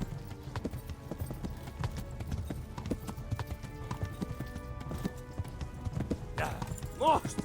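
Galloping horse hooves pound rapidly in Kingdom Come: Deliverance during the siege of Skalice, a dense irregular drumming at moderate volume, with a horse whinnying briefly near the end.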